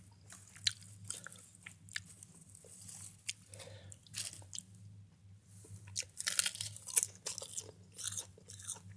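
Close, crisp crunching and chewing of gim, Korean seaweed snacks, in an ASMR mukbang, with irregular bites and crackles over a low steady hum and no talking.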